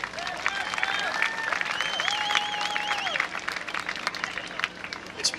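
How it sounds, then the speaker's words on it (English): A homecoming pageant crowd gives contestant Monica a round of applause, steady loud clapping with cheers and warbling whistles rising above it, fading slightly near the end. "how about another round of applause for Monica?"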